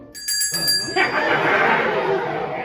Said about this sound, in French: quand je ferai sonner cette petite cloche